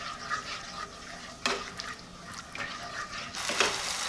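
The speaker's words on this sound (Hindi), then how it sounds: "और इसको चलाते रहिए फौरन।" Yogurt is added a little at a time and stirred into fried masala for fish curry, giving wet scraping strokes and bursts of sizzling in the pan, moderately loud and close.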